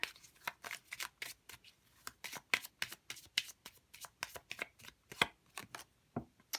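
Tarot cards are shuffled and drawn by hand, giving a run of sharp, close riffling snaps and flicks in an irregular rhythm with no talk.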